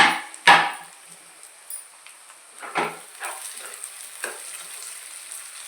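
Tomatoes freshly added to fried onions sizzle in a pan, with a few sharp spatula scrapes and stirs standing out over a steady, soft frying hiss.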